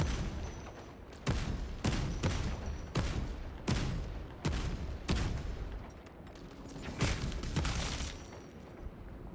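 Repeated gunshots from a shooting video game, about a dozen sharp, loud bursts at irregular intervals with dense in-game background noise between them and no talking.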